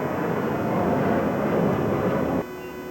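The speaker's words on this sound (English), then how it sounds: "Excuse the air traffic." Fixed-wing aircraft passing overhead near a machine shop where a stainless steel workpiece is being turned on a lathe, a steady broad roar holding for over two seconds before dropping off abruptly, with no talk.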